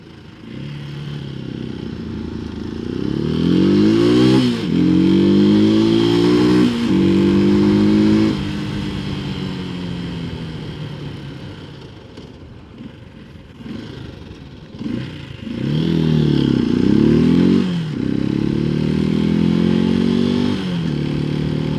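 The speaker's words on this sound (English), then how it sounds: "accelerating is so much fun, and downshifting, etc., which is what motorcycles are all about" A Janus Halcyon 250 motorcycle engine revs up through rising gears, eases off and drops back, then accelerates hard again, loud and close throughout.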